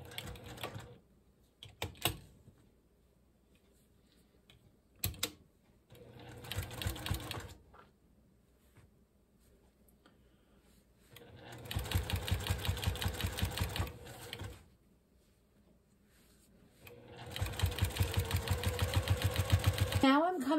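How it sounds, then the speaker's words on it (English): A sewing machine stitches quilt binding around a mitered corner in three separate bursts of rapid, even whirring, with quiet pauses and faint handling sounds between the runs. "you want to catch your thread and make sure you're tacking that corner down"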